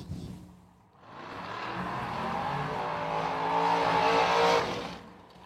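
A drag racing dragster engine roars at a drag strip, swelling from quiet into a loud, sustained blare that builds toward the end and then cuts off.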